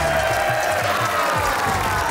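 A studio crowd applauds for three competing teams on a TV game show, a steady wash of clapping that fills the whole moment, with music playing underneath.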